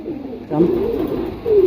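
A single female Giasul pigeon gives a short, close, low cooing call with a rising and falling tone, heard clearly and alone.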